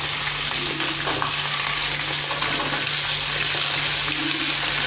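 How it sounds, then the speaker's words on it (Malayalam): Chopped onions drop into a hot pan for a beef curry and fry with a dense, continuous close sizzle and hiss, steady throughout with a low electrical hum beneath and no voices. "ഇനി നമ്മൾ എടുത്തു വെച്ചിരിക്കുന്ന ആ ഉള്ളി അരിഞ്ഞത് ഇട്ട് കൊടുക്കാം"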